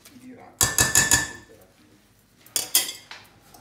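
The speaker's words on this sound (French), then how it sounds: "On mélange le tout." Risotto for a scampi dish stirred in a pan, with two bursts of rapid metallic clanking of a utensil against the pan separated by a brief quiet gap.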